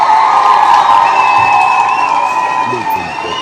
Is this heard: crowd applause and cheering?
yes